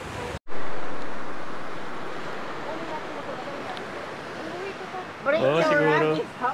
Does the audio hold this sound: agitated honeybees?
no